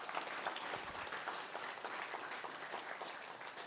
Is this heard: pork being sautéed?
no